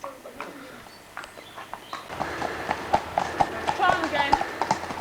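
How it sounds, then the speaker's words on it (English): A horse's hooves clip-clop at a summer camp at Kielder Water, sharp nearby knocks in an uneven rhythm that grow busier, while people talk and birds coo in the background. "Go on. It's only a horse."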